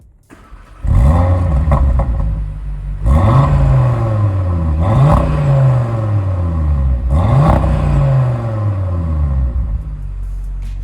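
An Audi RS3 engine revs loudly several times, each rise in pitch followed by a drop back to a throaty idle.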